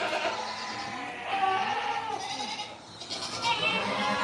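Sheep bleat several times in a row, wavering calls close by, with general farmyard background noise around them.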